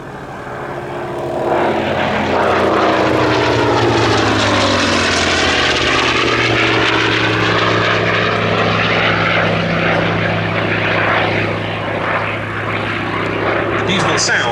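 A Hawker Fury II fighter with a 2,500 horsepower Bristol Centaurus 18 radial engine flying past at an airshow, a loud, rich propeller drone that swells in and shifts pitch as it passes, holding strong for over ten seconds.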